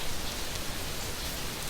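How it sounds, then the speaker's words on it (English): Steady rain falls in ARK: Survival Evolved, a soft, even hiss of drops on surfaces that runs unbroken and moderately close, with no talk over it. "So you can see out there it's raining now"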